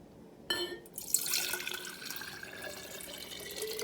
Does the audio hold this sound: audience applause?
no